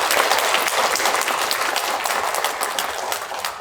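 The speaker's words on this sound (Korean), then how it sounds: "하나님께 감사의 박수로 영광 올려드리겠습니다." A church congregation at a Sunday praise service claps in thanks to God, producing a sustained, loud wash of many hands that tapers slightly toward the end.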